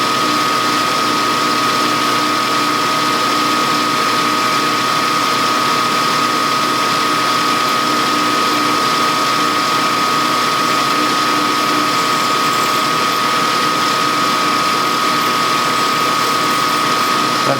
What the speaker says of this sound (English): That drill could be sharpened.